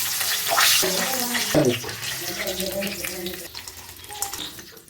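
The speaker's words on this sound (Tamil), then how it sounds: "போட்டால் நல்லா சலசலன்னு சத்தம் கேட்கும் பாருங்கள்" Semiya mixture ingredients frying in hot oil, with a crackling sizzle that runs under a voice speaking throughout and a brief splash of water near the start.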